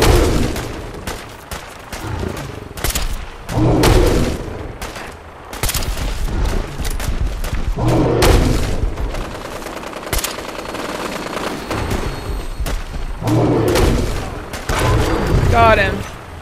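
Automatic gunfire rattles in Fallout 4 combat, with repeated loud bursts and booms coming in waves across the stretch while a player talks over the action.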